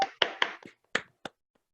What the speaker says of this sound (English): kindly join me in giving a big round of virtual clap to our